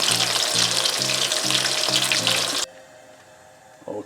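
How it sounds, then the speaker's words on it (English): Loud, crackling sizzle of fish frying in hot oil until golden brown that suddenly cuts off, leaving quiet room tone and a brief clatter at the end. "I've finished frying the fish"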